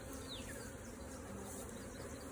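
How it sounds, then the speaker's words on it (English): Honey bees buzzing around a hive box, a faint continuous hum of many insects with a single bee passing close by. "can see the field bees going to be coming back into this box big time"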